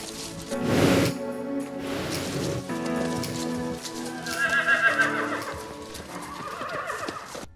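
Loud horse whinnies rise and fall up close, mixed with the clopping of hooves and some rustling movement.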